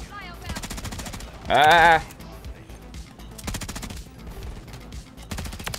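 Rapid automatic gunfire in Modern Warfare III hardcore mode, repeated quick bursts of sharp shots in clustered volleys across the moment, with a man's brief exclamation cutting in loudly partway through.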